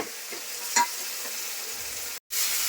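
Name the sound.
spiced fish curry frying and being stirred in oil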